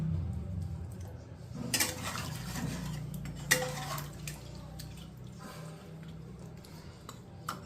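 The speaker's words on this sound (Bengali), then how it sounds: "সব কিছু দিয়ে এবার মাংসটাকে আমি খুব ভালো করে মশলাগুলোর সঙ্গে মিশিয়ে নেব" Mutton and spices are stirred in a pot with a spoon, producing soft scraping and clinks of metal against the pot, with wet squelching bursts, faint and close.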